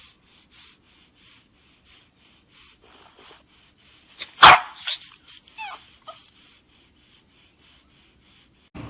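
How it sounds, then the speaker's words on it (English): A bulldog barks and yelps in a sharp burst midway, with whining and whimpering before and after over a steady high chirping in the background. "So that was the bulldog."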